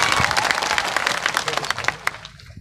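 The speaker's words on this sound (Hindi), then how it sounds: "इसलिए एक बार जोरदार तालियां आप सबके लिए" An audience at a Bharat Adivasi Party political speech breaks into strong applause, a dense crackle of many hands that thins out and trails off into a few scattered final claps.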